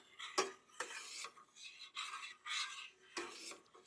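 A cup of honey being mixed with a utensil in a pot, heard as repeated scraping, rasping strokes against the pan in an irregular rhythm, fairly close and quiet, with no talking.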